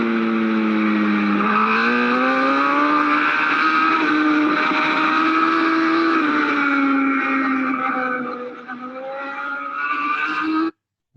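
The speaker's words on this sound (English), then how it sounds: "we'll have a listen to the bike through this particular lap" A racing motorcycle on a lap of a road course, its engine loud and close throughout with rising and falling revs through gear changes and corners, briefly dipping near the end before cutting out.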